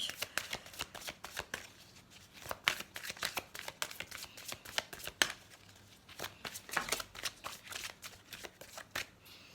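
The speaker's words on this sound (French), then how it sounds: "on va tirer quelques cartes de l'oracle des chakras du cœur" Oracle cards for a heart chakra reading are shuffled by hand in repeated quick riffling bursts, close and crisp, with brief pauses between handfuls.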